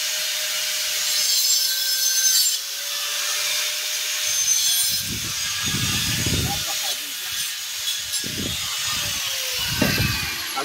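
A water pipe is sawn by hand, a series of rasping back-and-forth strokes that come in short rhythmic bursts after a quieter stretch, close and fairly loud, with someone talking nearby.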